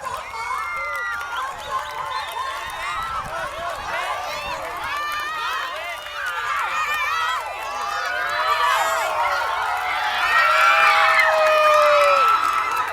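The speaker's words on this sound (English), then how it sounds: "What an applause for the youngster from Thailand." Spectators at the 2019 Moon 100 race cheer and applaud a young winning runner from Thailand, a loud, steady outdoor crowd noise with shouts and whoops that swells toward the end, mixed with overlapping voices and a commentator talking.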